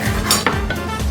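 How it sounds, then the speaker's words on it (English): Shrimp go into a pan while pasta cooks, giving a short metallic clatter of cookware and utensils, close and fairly loud, with no talking. "I'm putting our shrimp now here while we're waiting for our pasta to be cooked"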